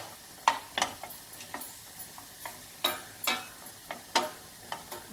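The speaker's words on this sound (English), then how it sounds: "get the fat hotter, they'll start sizzling and you'll hear them start to cook" Onions frying in hot fat in a pan give a steady soft sizzle, broken by irregular crackles and light spatters throughout.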